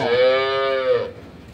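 A single loud, close moo from a dairy cow lasts about a second, then fades into quiet background.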